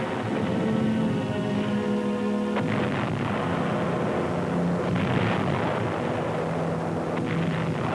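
An ammunition dump on Angaur, Palau, in 1945, hit by World War II mortar fire, explodes in a sustained, heavy roaring blast that continues for several seconds. Orchestral music plays underneath, and no voices are heard.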